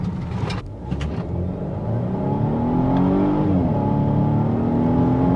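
A 2019 Volvo XC90 with a 2-liter inline four accelerates hard from inside the cabin, its engine note climbing steadily in pitch and loudness over a sustained drone with no pauses.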